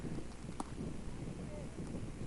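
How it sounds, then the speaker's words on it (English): Wind gusts into the protective netting at an outdoor baseball game, a continuous low rumbling buffet against the microphone that holds steady at moderate level. "the wind keeps on blowing into the netting"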